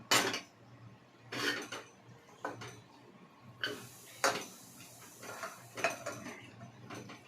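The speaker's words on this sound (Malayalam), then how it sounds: "അത് നമുക്ക് ഒരു കുക്കറിലേക്ക് ഇട്ട് കൊടുക്കാം." Washed mutton pieces are dropped into a metal pressure cooker in a home kitchen, making a series of separate quiet clanks and clinks with short pauses between them.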